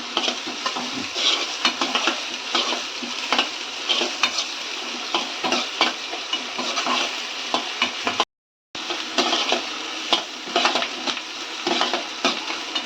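Small shallots (pearl onions) fry toward golden in a pan for restaurant-style chicken bhurji, giving a steady close sizzle with frequent scraping stirs and light utensil clatter, a brief dropout midway, and no talking.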